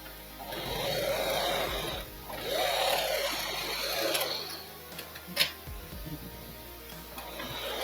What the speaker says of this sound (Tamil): இதுலேயே டபுள் ஸ்டிச் போட்டுக்கோங்க.